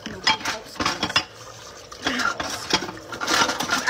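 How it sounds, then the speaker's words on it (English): Dishes being washed, with plates, pots and cutlery clattering in irregular bursts close by, and a brief voice between them. "I can help you wash dishes"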